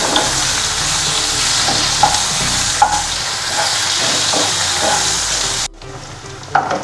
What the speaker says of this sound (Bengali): পেঁয়াজ কুচিটা একটু সামান্য নরম নরম ভাজা করব।